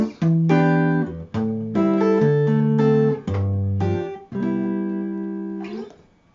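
A sequence of sustained piano-like chords stepping through a key around the circle of fifths, each chord struck and held for roughly half a second to a second, a dozen or so changes with a final ringing chord, played alone without talk.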